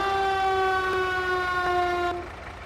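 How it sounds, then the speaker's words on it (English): A steady, loud fire truck siren in Farming Simulator 22 wails with a rich stack of harmonic tones, holding pitch before cutting off near the end, leaving quieter background hum. "if I jump in as well, we've got some nice sirens as well"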